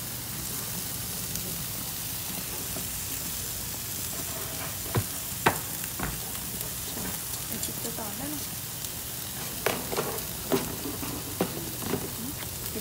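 Chicken pieces sizzle on a stove-top grill over a four-burner gas stove for Pakistani-style BBQ, a steady close frying hiss broken by a few sharp pops and clicks.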